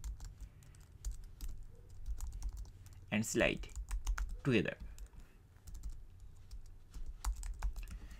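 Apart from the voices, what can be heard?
typing on a computer keyboard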